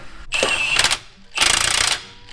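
Torque converter spinning as it seats into a transmission, two short bursts of close metallic ratcheting clicks separated by a brief gap.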